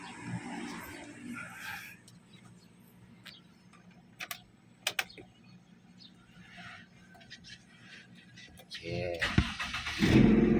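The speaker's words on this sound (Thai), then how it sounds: "ดูสิรถจอดสองสามวัน สตาร์ทเครื่องนะครับทีเดียวติดหรือเปล่า" A car that has sat parked for several days starts up near the end after a quiet stretch with a few faint clicks, its cold engine catching at once and settling into a steady, close idle.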